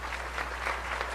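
Continuous audience applause at a medical college grand opening ceremony, a steady wash of many hands clapping at moderate volume over a low constant hum.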